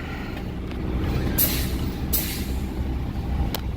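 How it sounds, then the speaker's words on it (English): Commercial truck air brake system idling with a steady low engine rumble, broken by short sharp hissing bursts of air released near the middle and a brief hiss toward the end. "I'm ready to conduct my commercial air brake test."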